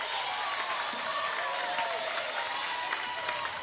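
Wheelersburg volleyball fans in a gym rise to their feet for a Division V Sweet Sixteen match, a steady wash of applause, cheers and crowd noise sustained throughout with no breaks.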